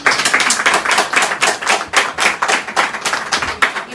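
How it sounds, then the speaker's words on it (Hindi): Hand clapping from people at a business plan presentation, a brisk, rhythmic series of sharp claps in close succession, loud and near with no talking over it. "बजा दो ताली"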